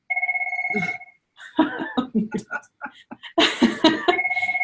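A mobile phone rings in a room with a repeated electronic trill, pausing while people talk and laugh, then ringing again loudly and close at the end.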